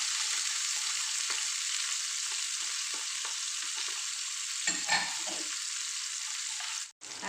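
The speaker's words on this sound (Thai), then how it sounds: "เขาผัด ลูกชิ้นกับเต้าหู้เสร็จเรียบร้อยแล้วเนาะจ้ะ" Meatballs and tofu stir-frying in a pan give a steady, fairly loud hiss of sizzling oil throughout, broken by a brief clatter of stirring near the end.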